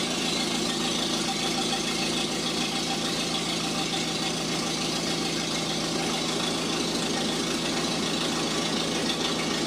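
An older engine idles steadily after starting, a loud continuous rumble with a slightly knocking texture that holds without change throughout, no voices.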